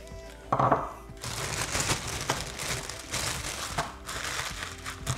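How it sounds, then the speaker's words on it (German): Crunching and crackling come in short bursts as walnuts are crushed inside a crinkling plastic bag, close up and fairly quiet. "Die Walnüsse werde ich zerkleinern, indem ich sie in eine Tüte reingebe."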